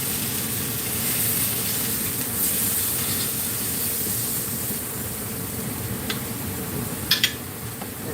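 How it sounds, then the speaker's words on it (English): Beef fillet sears in a hot pan for a Beef Wellington, giving a steady, close sizzling hiss with a few sharp pops and ticks near the end. "Just want to give it a good sear"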